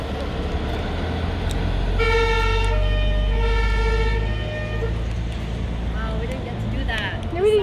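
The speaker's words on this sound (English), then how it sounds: "The siren." An airport fire and rescue truck's siren blares in a loud, sustained wail close by, rising and falling over a constant engine rumble, with voices talking over it.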